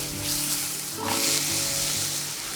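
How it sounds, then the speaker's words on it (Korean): Minced garlic sizzles and crackles in a hot pot, a steady close frying hiss that swells briefly midway. "냄비에는 다진 마늘을 볶아 향을 내고"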